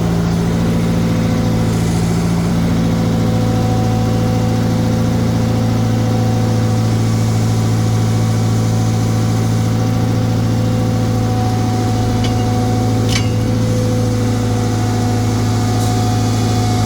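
A car engine idles steadily on a trailer with a carburetor issue, a loud, even hum that runs unbroken throughout with a few faint clicks near the end.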